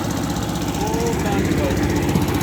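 A boat on the Indus River runs on a Peter engine, a steady low mechanical drone with a faint rhythmic knock, continuous and fairly loud against wind and water noise.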